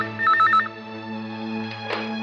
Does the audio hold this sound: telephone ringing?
yes